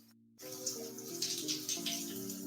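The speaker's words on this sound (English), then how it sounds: "I'm going to finish taking my shower so I can record." Shower water runs in a steady rushing spray with splashy fluctuations, starting abruptly after a short quiet moment beneath a faint musical background, with no one talking.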